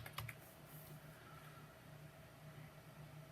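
Faint, quick keystrokes on a computer keyboard as text is entered for a laser engraving job, heard over a steady low machine hum, with no talking.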